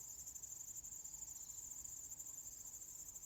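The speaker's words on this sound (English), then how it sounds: "There's crickets, the wind rustling the leaves, the occasional bird" Crickets chirping steadily outdoors, a continuous high-pitched trill that stays faint and even throughout, with no other sounds standing out.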